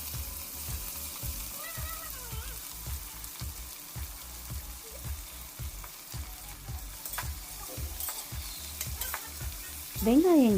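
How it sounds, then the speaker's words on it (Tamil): Onions fry in oil in a pressure cooker with a constant sizzle, while a utensil scrapes and stirs in a steady, regular rhythm close by. "வெங்காயம் நல்லா வதங்கட்டும்."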